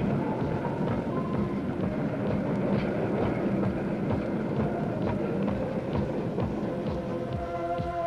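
A train rolls through a railway station in Hungary around 1978, a steady, loud rumble with rhythmic clickety-clack of wheels over rail joints lasting throughout, no voices.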